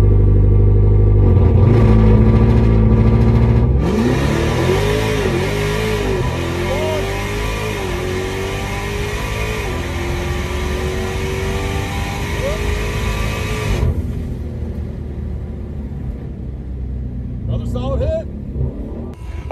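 Dodge Demon 170 making a drag-racing pass, its engine roaring loud and sweeping up in pitch through the run, then cutting off abruptly as the car lifts, with muffled wind afterward.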